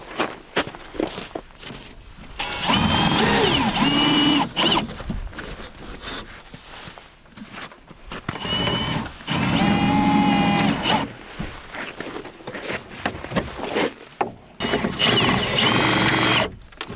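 Power drill driving screws to join parts of a solar kit mounting frame, three bursts of whining motor lasting about two seconds each, close and loud, separated by handling clatter and footsteps.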